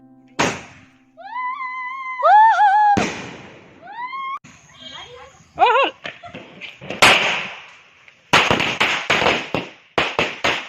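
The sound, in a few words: firecracker bursting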